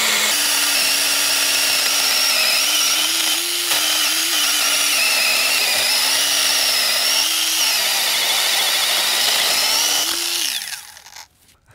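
A small battery-powered pruning chainsaw, a GT RXE, whines steadily at high revs as it cuts through wood, its pitch wavering slightly, then winds down and stops near the end.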